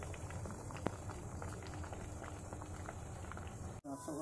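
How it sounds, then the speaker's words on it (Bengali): Ash gourd pieces boiling in water for Bengali morobba, a faint steady bubbling with occasional soft pops, continuous until a brief break near the end. "এবার সিদ্ধ করে নিলাম, 15 থেকে 20 মিনিট মতন ফুটাতে হবে"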